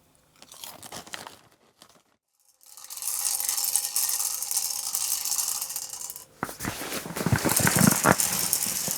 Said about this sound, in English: That's my rattle reel.